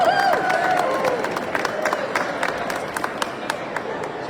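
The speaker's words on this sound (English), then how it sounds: "Please give them a round of applause." A crowd at an environmental lobby day gathering in Harrisburg claps, a dense patter of many hands sustained for several seconds under a faint murmur, moderately loud and slightly distant.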